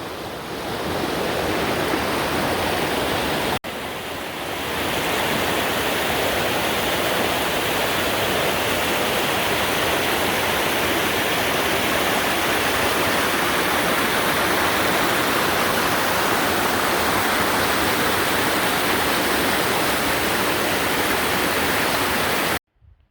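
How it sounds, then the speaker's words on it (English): A big waterfall roars steadily and loudly throughout, a dense broadband rush with a brief dip partway through, heard alone with no talk. "there's the big waterfalls down there"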